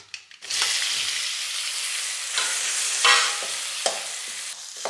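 Potatoes dropped into a pan of fried garlic sizzle loudly and steadily, with a few brief stirring scrapes punctuating the continuous hiss.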